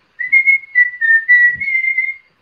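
A person whistles a continuous melodic tune, clear and close, with a few sustained notes and slight pitch glides, running for about two seconds with no talking.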